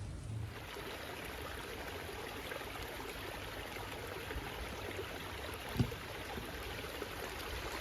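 Creek water flows steadily in a New England stream, a continuous broadband rush with no pauses, close by and unaccompanied by voices, with one brief knock near the end.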